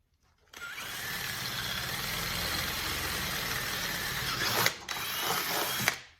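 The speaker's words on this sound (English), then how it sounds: "I'll go ahead and drill out the trunk lid to accept the riv nuts" Power drill boring holes through a car's metal trunk lid for riv nuts, a steady whining drone that runs several seconds with brief dips and a final catch as the bit breaks through, close and loud.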